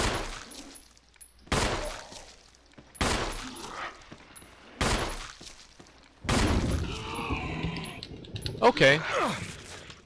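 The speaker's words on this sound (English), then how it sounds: "Now you might be like, why am I shooting this zombie?" Several loud gunshots ring out one by one at a zombie in a Resident Evil game, separated by quieter gaps, with a voice speaking briefly near the end.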